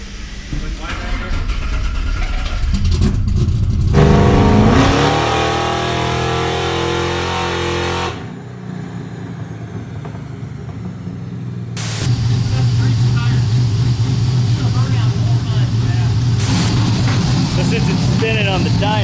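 Chevrolet C10 Squarebody engine revving on a dyno, loud close roars that rise sharply, drop back to a rough idle, then surge again, with a voice speaking over part of it.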